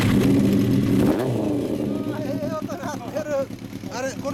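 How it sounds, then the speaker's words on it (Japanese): A fully customised Kawasaki Zephyr 400 with a swapped engine idles loudly and then revs in rising surges, with people talking over the engine throughout. "エンジン音聞かせてもらえますか？"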